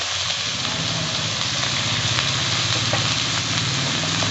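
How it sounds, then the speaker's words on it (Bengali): Eggplant pieces with turmeric and salt frying in hot oil for a traditional shukto, a steady, dense sizzle that runs unbroken and close with a low rumbling hum beneath it, and no voices. "ওই তেলে আমি বেগুন কটা ভেজে নেব।"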